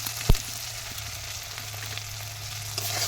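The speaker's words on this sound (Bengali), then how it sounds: "আবার এই মশলাটা 1 মিনিট কষিয়ে নেব" Spices frying with softened tomato, salt, turmeric and chili powder in a pan for a Bengali taro-stem and taki fish dish, a steady low sizzle with one brief clatter near the start.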